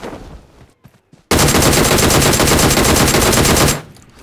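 Sustained automatic gunfire from a PUBG Mobile battle erupts loudly and continuously for over two seconds after a quieter opening, a dense rapid burst of shots that cuts off abruptly.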